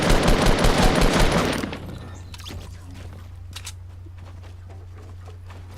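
Submachine gun fire in Fortnite, a loud rapid burst of automatic shots for about a second and a half, then quieter scattered clicks and faint shots over a low steady hum.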